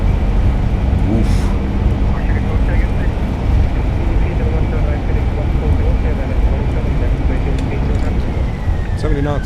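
Airbus A320 jet engines roar with thrust reversers deployed during landing rollout in Microsoft Flight Simulator, a loud, steady, broadband engine rush that holds throughout.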